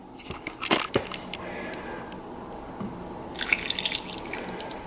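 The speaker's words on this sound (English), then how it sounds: "Now I'm going to go ahead and pour our coffee in." Coffee poured into a cup for homemade iced coffee, with a few sharp clinks and clatters early on, then a splashing pour toward the end; no talking.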